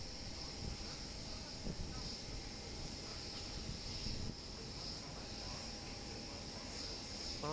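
A large airliner at Osaka Itami Airport gives off a steady, faint, broad engine roar that holds evenly from start to finish.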